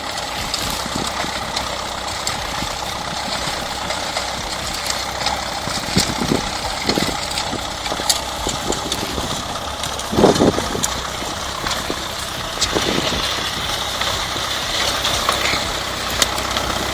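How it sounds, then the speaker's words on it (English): Diesel engine of a 1956 Ferguson TEF vintage tractor working dirt, a steady broadband mechanical drone with idling rumble, a few louder knocks and clunks rising over the continuous running noise, no speech. "First thing you'll notice is the low growl of the diesel engine."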